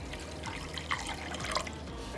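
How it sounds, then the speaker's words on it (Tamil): Water pours into a bowl for Malabar spiced Sulaimani tea, making a faint, close trickle with a few small splashes over about two seconds. "இப்போ ஒரு கிண்ணத்தில் ஒரு 2 கப் அளவுக்கு தண்ணி சேர்த்துக்கலாம்."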